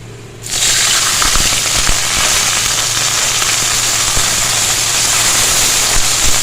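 Water poured into onions frying to a light golden colour for chana pulao sets off a sudden, loud sizzle that bursts in and then hisses steadily at full strength.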